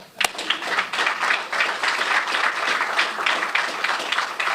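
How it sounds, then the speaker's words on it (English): Crowd applause for Greg Jackson at a police department's annual public safety review, a sustained wash of many hands clapping that opens with a sharp single clap and holds steady throughout. "You can clap for yourself"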